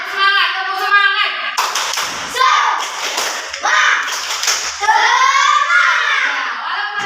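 Schoolchildren in a classroom perform a rhythmic spirit clap, with sharp patterned bursts of clapping alternating with loud chanting voices of the kids and the teacher.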